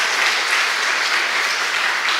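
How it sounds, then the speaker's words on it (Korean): A church congregation gives applause of encouragement for players, a dense, even wash of many hands clapping that sounds close and full and holds steady throughout. "우리 선수들을 위해서 한번 격려의 박수 한번 해주시면 감사하겠습니다"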